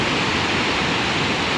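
Powerful rush of a strong water current at a hidden waterfall in Luisiana, Laguna, a dense, steady roar filling the whole clip up close with no voices.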